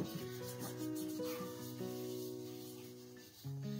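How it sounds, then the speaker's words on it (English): A soft, dry rubbing of oil being spread across the surfaces and handle of a warm cast iron pan, quiet and close, with steady tonal background music underneath. "I cover all my surfaces with oil, even the handle."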